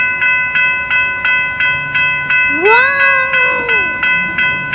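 Electronic railroad crossing bells ring in a steady rhythmic pattern of about two strikes per second while a passing train's horn sounds loudly for over a second near the middle. A voice briefly exclaims.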